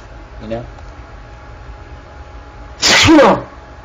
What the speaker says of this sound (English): I tried to sneeze away from the mic, but it just snuck up on me